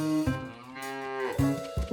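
Cartoon cows moo in several long, low calls, one drawn-out moo followed by shorter ones, close and clear with no talking.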